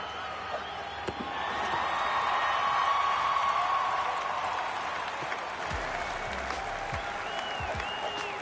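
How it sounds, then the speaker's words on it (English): Stadium crowd in Cities: Skylines, a sustained roar of applause and cheering that swells and holds, with scattered thumps and faint whistles on top. "You can hear the crowd going crazy."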